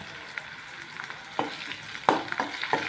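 Curry leaves sautéing with a pinch of salt in a hot pan give a steady crackling sizzle, punctuated by several sharp scrapes and clacks of stirring, close and fairly loud with no talking.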